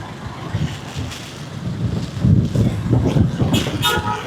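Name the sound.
wind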